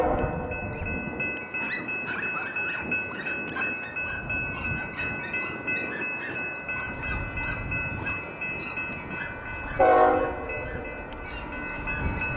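A slow Union Pacific mixed freight train rumbles past with a continuous heavy grinding and rattle of wagons on the rails, and a brief tonal horn-like sound rises near the end.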